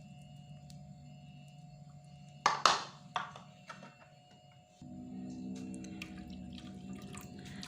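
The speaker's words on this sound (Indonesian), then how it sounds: "baru kita boleh tambahkan air" Water is poured into a pan of softened garlic and shallots, giving a few sharp splashing bursts followed by a quieter, steady simmering hiss, close by and with no talk.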